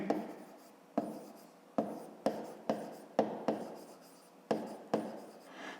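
Pen writing on paper for a fifth-grade math exercise, a series of short scratchy strokes in an irregular rhythm, close and quiet, with no talk.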